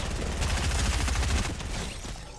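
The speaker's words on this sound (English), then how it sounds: "What does this do? This gun. It's a goodie gun." Goodie gun firing in the Fortnite video game, a rapid rattling burst of repeated shots lasting about two seconds before trailing off.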